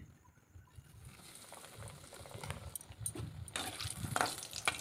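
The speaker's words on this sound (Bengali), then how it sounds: "আমি কতকগুলো মাছের চপ একটু কড়া করে ভেজে নেব" A fish chop fries in hot oil in a wok, a quiet sizzle that grows into louder crackling and spattering toward the end, with faint clinks nearby.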